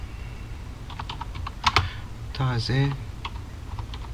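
Typing text on a computer keyboard while designing a label, light clicky keystrokes in short bursts, close by, with a voice briefly speaking in the middle.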